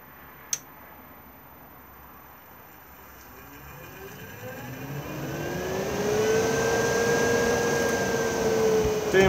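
A motorhome roof vent fan inside a Benimar Tessoro 486 spins down, then reverses and winds back up to draw air in. Its whirring hum rises steadily in pitch and loudness, and a sharp click comes near the start.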